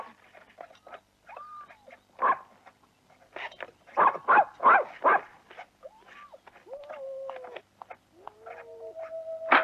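A dog barks and whines outdoors in a house setting, with several loud bark bursts clustered mid-clip and rising whimpers and yelps scattered between them, with no talking over it.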